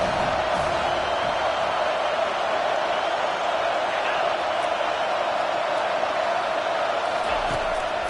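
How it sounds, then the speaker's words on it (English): A stadium crowd in the College Football 25 video game keeps up a steady, rising roar on a third-down defensive stand, with play-by-play commentary over it throughout. "Decibels rising as the crowd gets behind this defense on 3rd down."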